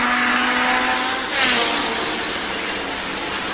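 A race car engine roars steady and loud as the car brakes into turn 5 at Watkins Glen during the 1990 Budweiser at the Glen, with a brief surge partway through and no voices.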